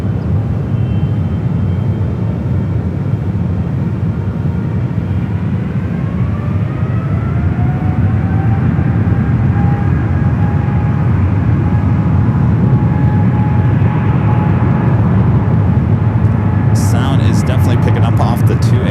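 An airliner takes off from runway 28 Left at San Francisco International Airport. The engines give a loud, sustained roar with a slowly rising whine that carries on throughout.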